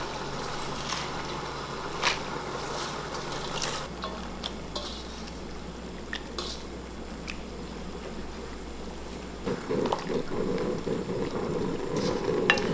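Steady bubbling and hissing of salted water at a rolling boil as water spinach is blanched, with occasional clinks and a louder surge of activity near the end.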